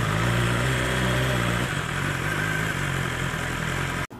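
A red 2020 BMW S1000XR sport motorcycle idles nearby with a steady, even engine rumble, loud and continuous, then briefly cuts out near the end; no one speaks.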